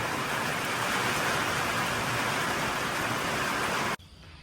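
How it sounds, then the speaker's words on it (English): Steady rain falls outdoors near a hen house, a dense, even hiss that holds loud and constant for about four seconds and then cuts out abruptly, leaving only a faint background. "And it's raining once again"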